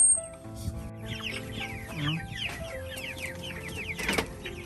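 Several hens cluck and chatter close by in a steady, busy farmyard jumble, with a sharper squawk near the end.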